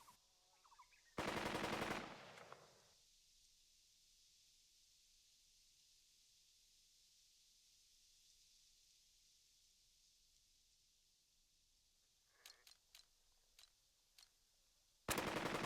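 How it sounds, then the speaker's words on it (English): Gunfire from the Burden of Command war game: a loud burst of machine-gun fire early on, then a long quiet stretch, a few sharp scattered shots near the end and a final loud burst. "Who's shooting?"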